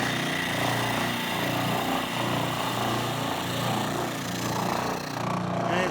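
A spindle machine shapes a wooden workpiece from a Stew Mac Mini T guitar kit, giving a loud, continuous close-up roar with slight shifts as the piece is pressed in.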